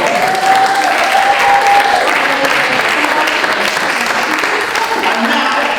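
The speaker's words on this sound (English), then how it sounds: "Give them a round of applause." Audience applause at a comic stage show based on Macbeth fills the whole clip. It is loud, dense and continuous, with a faint sustained tone heard under it early on.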